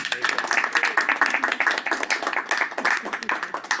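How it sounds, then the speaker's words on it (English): Members at an executive committee meeting give a round of applause for a departing member, a modest group clapping in uneven bursts of distinct hand claps, fairly close, with a few voices mixed in. "Let's give him a round of applause."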